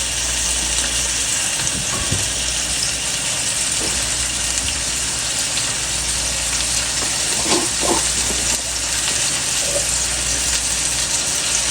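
Ginger garlic paste gets stirred into chicken macaroni with pickle spices in a hot pan, giving a steady close sizzle and frying hiss, with a few soft scrapes and knocks of the spoon against the pan.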